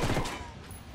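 Gunfire in the video game Ghost Recon: a brief, loud burst of rapid shots that fades quickly within a second.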